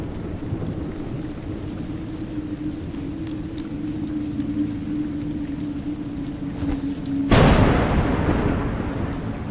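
Steady rain in the game A Juggler's Tale patters and hisses throughout with a low drone, then a sudden loud crack of thunder breaks in and rumbles on.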